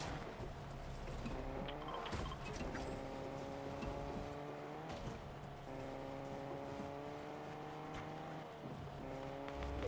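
A car drives in Fortnite, its engine note droning steadily and rising and falling as it shifts through revs, moderately close under faint game ambience with no voices.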